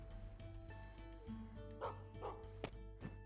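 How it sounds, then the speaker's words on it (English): A dog barks a few times in the video game Gestalt: Steam & Cinder, short yips set against steady game music and ambience at moderate distance. "I hear the barking of a doggo, though."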